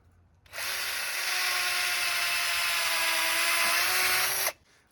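A power drill with a 5/16 inch bit bores into a maple tree for tapping, running steadily for about four seconds, loud and close, with a high whining tone that starts and stops abruptly.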